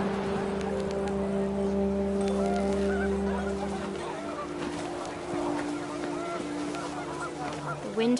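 Panicked geese honk in a windy outdoor scene of What Remains of Edith Finch, a steady stream of calls over a low rumble for the first few seconds, then fainter scattered honks as the birds quickly leave.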